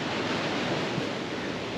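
Ocean surf washes over the beach at Parrot Rock, Sri Lanka, a steady broad hiss of breaking waves with some wind, continuous and fairly loud.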